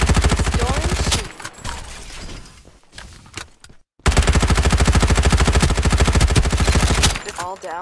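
Rapid automatic gunfire from a mobile shooter game rattles in two long, dense bursts, loud and close, separated by a short lull with scattered clicks and a brief silence.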